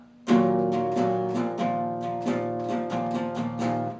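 Strummed chords on guitar, a steady pattern of several strokes repeating two chords, close and clear with ringing sustain and no voice.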